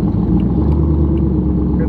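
A cammed 450 hp lifted Chevy Tahoe idles at a stoplight, its engine giving a deep, steady, loping rumble close by.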